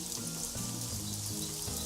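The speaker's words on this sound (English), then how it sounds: "Let's close this hatch up so the rain will kind of come down into here even more" Steady rain falls in the video game Craft The World, a constant soft hiss of drops with low game music tones beneath it, at a fairly quiet level throughout.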